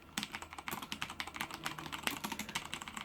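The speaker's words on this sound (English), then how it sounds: "Cherry MX brown. So there's no extra clicky sound, but there's still a good amount of tactile feedback." Fast, steady typing on a CM Storm Quickfire TK keyboard with tactile, non-clicky Cherry MX Brown switches, each keystroke a close, distinct clack in an even stream.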